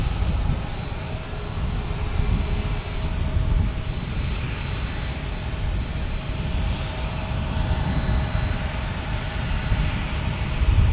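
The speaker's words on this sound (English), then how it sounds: "Prepare for takeoff" An airplane takes off at San Diego airport with a loud, steady engine roar that stays constant throughout, heard from nearby with no voices.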